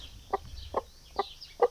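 A broody, fluffed-up hen clucks four times at an even pace, each short, close, moderately loud cluck set against a quiet farmyard background.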